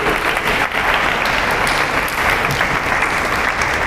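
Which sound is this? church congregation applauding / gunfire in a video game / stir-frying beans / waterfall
church congregation applauding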